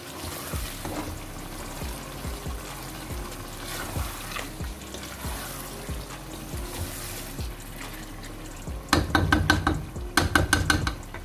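Chicken for biryani, one kilo in a pot, fries and sizzles steadily while being stirred, with rhythmic scraping pulses throughout and a louder burst of clattering, hissing stirring near the end.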